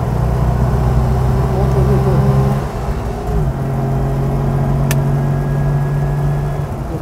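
Vintage DKW car with an aftermarket muffler accelerating through the gears, a close buzzing engine note that climbs, drops briefly at a shift, then rises again.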